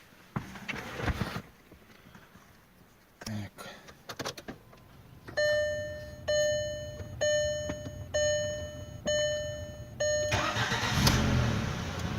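A VW Passat B5+ engine is started and idles after a Valeo alternator brush repair, with a repeating electronic chime pulsing over the running engine and a voice speaking briefly near the start.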